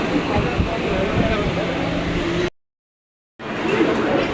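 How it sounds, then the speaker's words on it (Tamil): Loud continuous rumble and rattle of a Mumbai local train rolling past at Andheri station, a sudden silent gap, then the heavy roar resumes, close and dense. "லோக்கல் ட்ரெயின் போகிறது"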